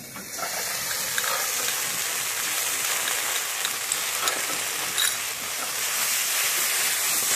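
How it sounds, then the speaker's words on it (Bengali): Poppy seed and green chilli paste frying in a pan for a Bengali rohu fish curry, a steady loud hiss and sizzle running without break throughout. "মশলাটা ভালোভাবে কষে নিয়েছি"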